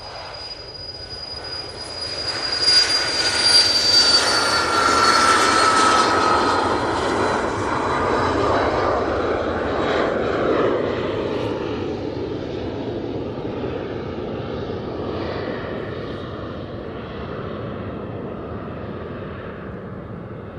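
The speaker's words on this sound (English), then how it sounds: "here goes that Cessna" A Cessna light aircraft passes near Manchester Airport, its engine droning loudly and swelling to a peak early on, then slowly fading as it moves away over a long, continuous stretch.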